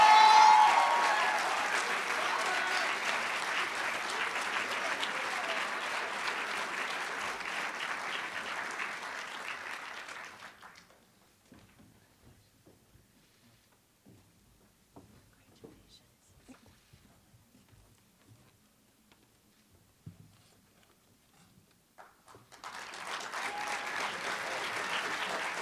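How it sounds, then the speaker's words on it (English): Audience applause fills a scholarship award ceremony, loud and sustained for about ten seconds, then near silence with faint rustles, before clapping swells again near the end. "Another round of applause."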